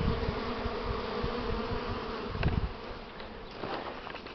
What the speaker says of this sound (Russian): Обножку полным ходом несут, но это пчелы немного такие беспокойные